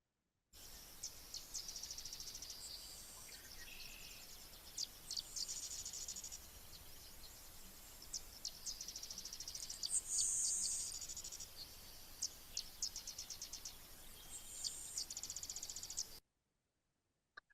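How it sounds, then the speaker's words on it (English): A Sedge Wren sings in a recorded field clip, each phrase opening with a few thin introductory notes before a harsh, dry staccato rattle, repeated in bursts over steady background hiss. "in the next one here, we'll take a look at the Sedge Wren"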